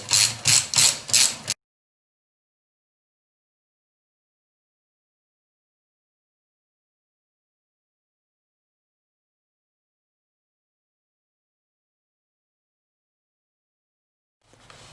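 A ratchet snugs the intake manifold bolts on a 1956 Buick with an LS engine swap: a quick series of close, crisp clicking strokes lasting about a second and a half, then silence.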